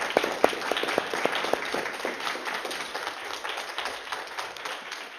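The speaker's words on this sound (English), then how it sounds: "Please, ladies, why don't you give yourselves a round of applause?" Applause breaks out for the women finalists of an art prize ceremony, a steady patter of many hands clapping at moderate volume with a few sharper individual claps standing out early on.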